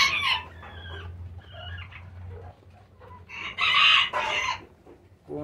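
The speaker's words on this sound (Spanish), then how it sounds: "Ese gallito está bien bonito." A small Cochin bantam rooster crows close by, with hens clucking around it. Several bright, strained calls rise over a low background hum.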